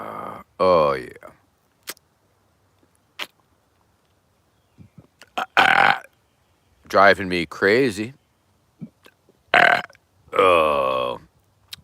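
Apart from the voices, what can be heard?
burping, belching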